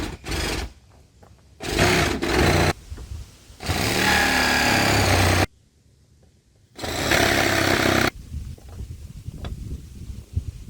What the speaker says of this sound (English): so I'm going to jigsaw this